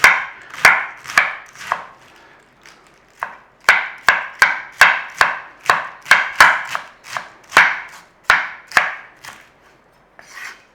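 A knife shreds cabbage for a corned beef and cabbage pie, producing a steady run of about twenty crisp, close chopping strokes with brief pauses between bursts and no talking.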